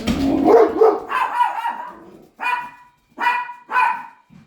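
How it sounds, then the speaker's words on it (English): Several dogs indoors bark after being woken, a loud close cluster of overlapping barks first, then three or four separate sharp barks trailing off, with no talking. "my daughter just threw the ball down the stairs and woke the doggies up"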